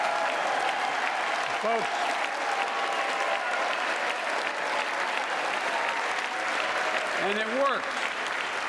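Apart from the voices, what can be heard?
audience applause during State of the Union address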